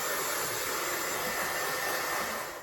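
A Dyson Airwrap hair styler blows hot air in a steady, loud, close rush that runs without a break and tapers slightly at the end.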